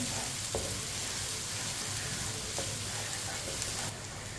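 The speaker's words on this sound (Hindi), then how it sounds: "थोड़ी सी लहसुन की कलियां, दोनों चीज़ों को हल्का सा ब्राउन कर लेंगे।" Steady, close sizzling of onion and garlic browning in a hot pan over medium heat, a continuous crackling hiss with a few faint clicks along the way.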